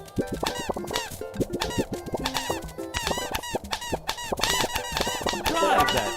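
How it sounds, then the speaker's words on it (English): Penguins squeaking in the video game Dream Daddy, a rapid run of high, chirpy squeaks and squawks in quick bursts, some overlapping, fairly close and bright. "Why are they making squeaky noises?"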